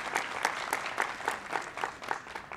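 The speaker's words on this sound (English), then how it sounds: "Round of applause." A small audience at a personal finance competition claps briefly, with distinct individual claps in a fairly quiet, even rhythm and no talk over it.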